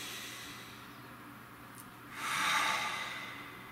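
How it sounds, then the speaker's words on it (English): A single deep breath drawn in quietly, a soft airy rush that swells around two seconds in and fades slowly, alone against a faint room hiss. "Nice deep breath, please."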